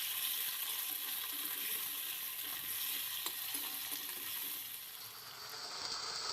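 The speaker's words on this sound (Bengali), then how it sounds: "এখন টমেটোটা দিয়ে আবারও ভেজে নিচ্ছি।" Tomato frying with ginger in a pan gives off a steady, close sizzle across the whole stretch, with a bright hiss and faint stirring clicks, dipping briefly near the end.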